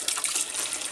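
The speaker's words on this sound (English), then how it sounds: "Hot water." Hot tap water running into a cast iron skillet, a bright, steady, close rush of water splashing against the pan.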